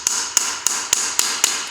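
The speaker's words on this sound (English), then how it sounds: "this hammering on here may seem a little brutal, but again, this is just a nylon" A nylon hammer taps a wooden dowel to drive a lead bullet slug out of an 1867 rolling block rifle barrel, giving six evenly spaced, sharp, close knocks about a quarter second apart with no talking.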